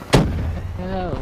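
A grenade explodes in Call of Duty Black Ops III with one sharp, loud boom that rumbles briefly and fades. A voice speaks just afterward.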